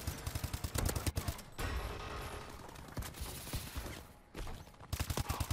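Rapid bursts of automatic gunfire from the Call of Duty: Advanced Warfare multiplayer game, rattling in fast repeated volleys with short gaps, then a stretch of denser muffled noise before the sharp shots resume, loud and close.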